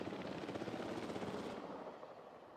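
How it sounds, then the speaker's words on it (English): A helicopter in the Jurassic World Evolution 3 video game airlifts a velociraptor, its rotor thumping fast and close in a steady chop that eases slightly near the end. "Terrifying lizard monster being airlifted over your heads."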